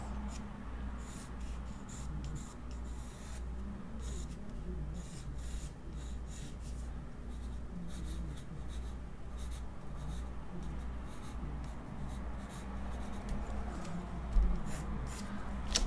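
Pencil scratches on paper in soft, continuous rubbing and hatching strokes, close and faint, with a steady low hum running underneath.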